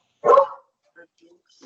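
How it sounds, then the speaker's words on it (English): Several dogs barking in a neighborhood, a short loud burst of barks followed by faint scattered yips and another bark starting at the end. "Even the dogs are barking."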